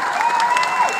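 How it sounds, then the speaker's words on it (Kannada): A crowd at a Yakshagana stage performance in Kundapura gives the troupe a big round of applause, a dense wash of clapping with a thin sustained tone running through it. "ಇಡೀ ತಂಡಕ್ಕೆ ದೊಡ್ಡ ಚಪ್ಪಾಳೆ ಬಂದು ಜೋರಾಗಿದೆ."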